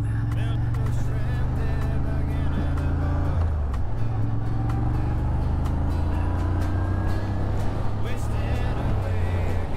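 A Moto Guzzi Griso motorcycle engine drones steadily while riding in cold weather, with constant wind buffeting and a brief dip in engine pitch as the gear changes.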